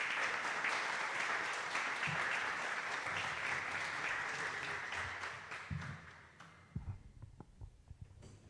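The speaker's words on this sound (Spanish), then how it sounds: "a quien recibimos con un fuerte aplauso," Audience applause greets a Peruvian poet at a poetry recital, dense and steady clapping that fills the room for several seconds before thinning out into a few scattered claps.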